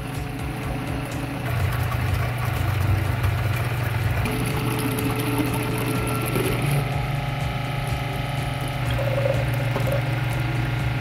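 Water runs steadily through a Grizzly flow meter as the valve is opened to working flow, producing a continuous close rushing and gurgling hum that carries on evenly throughout.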